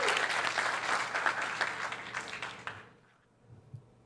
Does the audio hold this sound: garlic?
no